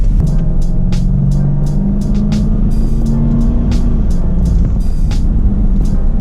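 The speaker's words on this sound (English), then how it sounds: "let's do a little bit of an acceleration test" A 2006 Lexus GX470 V8 SUV accelerating on a paved road, a steady, smooth engine hum that slowly rises in pitch over road and tire noise, with faint clicks scattered throughout and no talking.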